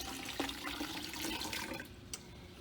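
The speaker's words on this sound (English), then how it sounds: "now I will pour it into this graduated cylinder to try to get a more accurate volume." Liquid pours into a graduated cylinder during an experiment on the molecular weight of air, a steady watery trickle that thins out and fades near the end.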